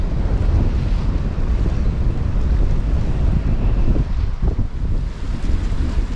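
Strong cold wind roars across a rocky seashore at high tide, buffeting the microphone in a loud, steady rush with surf churning underneath.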